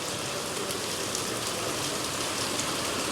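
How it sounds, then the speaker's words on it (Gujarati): Heavy rain pours down in a steady, dense hiss that stays even and unbroken throughout, with no voices. "વરસાદ એટલો છે ને તો ભૂકા કાઢે એટલો છે"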